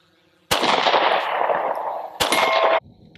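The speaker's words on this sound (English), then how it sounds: "now we're going to shoot 50 rounds of MagTech 115 grain" Glock 43x pistol firing MagTech 115 grain rounds: two loud, sharp reports about 1.7 seconds apart, each followed by a long ringing decay, with quiet before and after.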